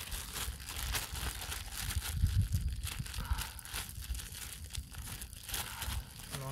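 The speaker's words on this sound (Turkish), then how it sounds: "Kemerleri poşetin içerisine koyup hepsini eziyoruz." Plastic crinkles and rustles continuously as desert truffles are squeezed and crushed inside a bag, up close, with soft thuds beneath.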